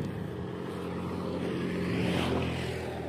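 A diesel Mitsubishi Kuda engine runs at a steady idle, a close, even low drone with no change in rhythm.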